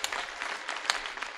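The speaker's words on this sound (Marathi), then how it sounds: "या सर्वच गायकांसाठी एकदा सर्वांनी टाळी वाजवा." Audience clapping for the singers at a kirtan gathering in Goregaon, a fairly soft, steady patter of many hands with a few sharper claps, heard alone without talk.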